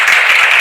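A short, loud burst of audience clapping fills the moment as thanks to a professor at a university extension podcast event, dense and continuous with no voices on top.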